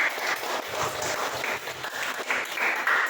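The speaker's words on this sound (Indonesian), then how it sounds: "Tepuk tangan untuk Grace." Students in a classroom applaud their classmate Grace, a short burst of mixed clapping that stays fairly steady and close, with a little movement underneath.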